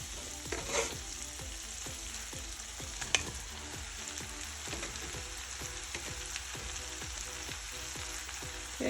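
Brussels sprouts fry in a hot pan, a soft, continuous sizzle with faint stirring scrapes and an occasional sharp clink, close and steady with no talking.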